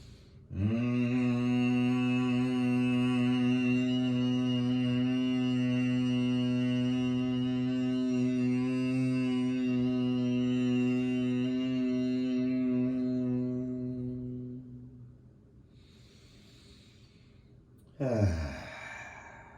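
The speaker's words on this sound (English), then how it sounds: "Let's do one Brahmari to clear." Bhramari humming bee breath during a mountain core yoga class: one long, steady nasal hum held for about fourteen seconds after a deep inhale, then trailing off, followed by a brief breath.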